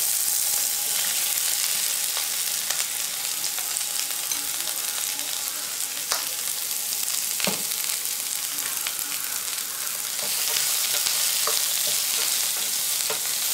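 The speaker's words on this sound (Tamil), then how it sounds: "இந்த வெங்காயத்தோட இந்த சட்னிக்கு தேவையான உப்பையும் நான் சேர்த்து வதக்கிக்கிறேன்" Three chopped onions sauté with salt in a hot pan for a South Indian breakfast chutney, giving a steady, close sizzling hiss throughout with a few faint stirring clicks and no talking.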